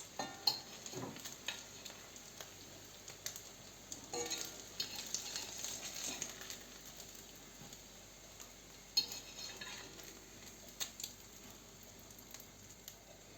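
Flour-and-breadcrumb-coated zucchini slices fry in a skillet with a soft, steady sizzle, joined by occasional scrapes and clinks of a utensil against the pan, quiet and close with no talking.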